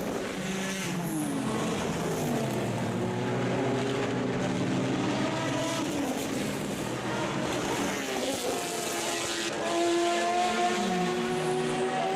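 Several race cars, LMP1 prototypes and GT cars in a racing video game, roar past with rising and falling engine pitch, overlapping whines and gear shifts, loud and continuous with layered engine tones.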